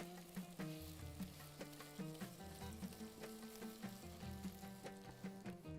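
Curry leaves and black lemon sautéing in a pan for a seafood dish, a steady close sizzle with frequent small clatters as they are stirred, no voices.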